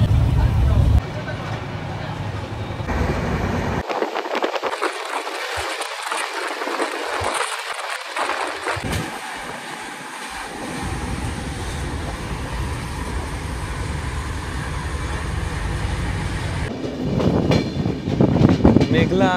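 A passenger train running from Howrah toward Jagdalpur, a continuous rumble and rattle from inside the carriage with the wind roaring past, brief quieter stretches, and people talking faintly throughout.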